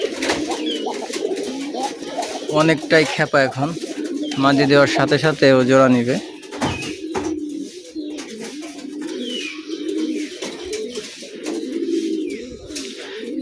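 Caged domestic pigeons coo in deep, throaty rolling bursts close by, overlapping with someone talking nearby in between.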